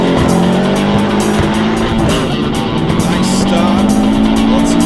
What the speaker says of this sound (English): I'm warming the brakes up currently.